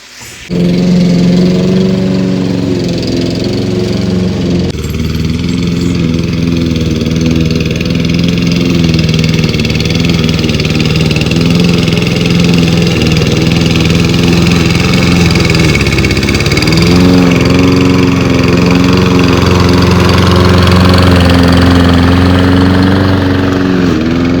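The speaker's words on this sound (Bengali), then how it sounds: "ঘাস কাটার পর ব্লো করছে দেখেছো" A leaf blower runs steadily after the lawn has been mowed, a loud continuous engine drone with a slight dip and shift in pitch partway through, with no talking.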